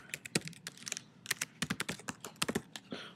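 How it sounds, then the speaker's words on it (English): Fingers type an email address on a computer keyboard into a Google Slides sharing box, a quick, close burst of light key clacks in an uneven patter. "I'll have to type it in."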